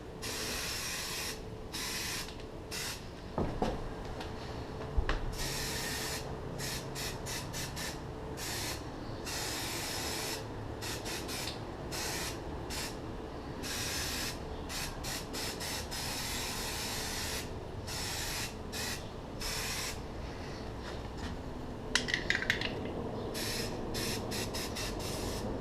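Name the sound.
spraying NeverWet water repellent coating onto boots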